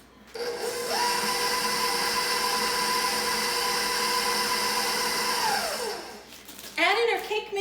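An electric mixer beats cookie dough with cake mix, a steady loud motor whir that holds for about five seconds, then winds down and stops before a brief burst of other sound.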